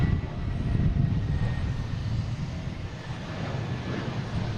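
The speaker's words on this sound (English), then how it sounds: "We've got Iceland Air coming in from Keflavik" An Icelandair airliner arriving from Keflavik and landing at Boston Logan: a continuous low roar of jet engines that fades slightly over a few seconds, heard from a distance and without talking.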